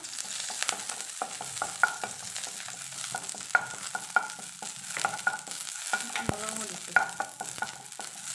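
Curry leaves hit hot oil while making namkeen murmure, setting off a crackling, popping sizzle with sharp spits and a spoon stirring and scraping against the pan; no voices.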